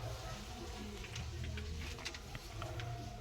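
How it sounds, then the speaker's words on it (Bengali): A full black homer pigeon, restless and aggressive, gives low, throaty cooing in soft repeated rolls. It is faint against a quiet room background, and no one speaks. "প্রথমে শুরু করছি একটা হোমার দিয়ে, ফুল ব্ল্যাক হোমার।"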